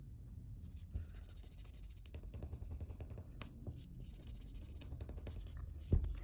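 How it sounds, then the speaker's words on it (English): A squeegee pressed and drawn across an Apple Watch screen protector, a close, soft scratchy scraping in short strokes, ending with a small tap. "now you're just going to press with the squeegee to place the screen down on there"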